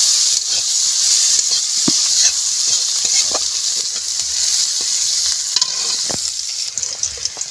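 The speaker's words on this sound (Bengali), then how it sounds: "একটুখানি পেঁয়াজটা কষিয়ে নেব।" Chopped onions sautéing in hot oil with cumin, whole chilies and bay leaf, a loud continuous sizzle and hiss with occasional scrapes and taps of stirring.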